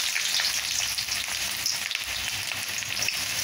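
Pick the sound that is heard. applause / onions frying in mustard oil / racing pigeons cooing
onions frying in mustard oil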